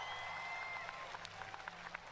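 A crowd at a Fortnite tournament final applauds and cheers for the winner. The clapping is faint and distant, with a thin steady tone running through it.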